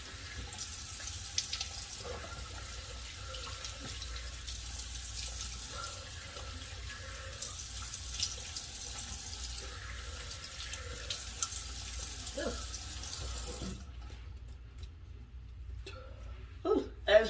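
A bathroom tap runs steadily as someone washes their face, a continuous broadband water hiss with small splashes that cuts off abruptly near the end, followed by a few quiet handling sounds and a brief exclamation.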